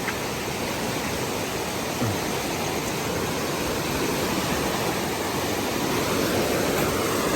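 A steady, heavy roar of strong rushing flood water fills the scene, loud and unbroken from start to finish.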